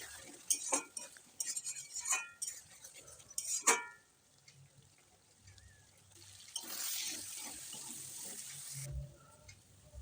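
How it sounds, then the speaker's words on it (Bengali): Water poured into a curry of goat stomach and liver with fried potatoes, with clinks of a utensil against the pot, then a steady splashing pour lasting a couple of seconds, fairly faint. "তারপর দিয়ে দেব সামান্য একটু জল।"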